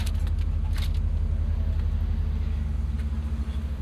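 Deep, steady rumble of a 2003 BMW Z8 Alpina V8 idling at a drive-through, low and continuous with a throbbing pulse, close and without talk.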